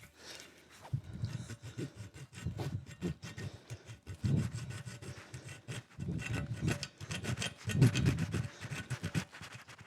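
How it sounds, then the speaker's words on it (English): Hacksaw blade cutting a slot by hand, close rasping strokes in an irregular back-and-forth rhythm with short pauses between bursts. "And now I take a hacksaw blade."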